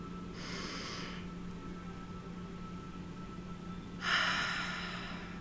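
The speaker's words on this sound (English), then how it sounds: "Okay, we're going to take a deep breath." Two deep, airy breaths taken during a relaxation breathing exercise, each a long breathy rush lasting about a second, near and fairly soft, separated by a few seconds of quiet with a low steady hum underneath.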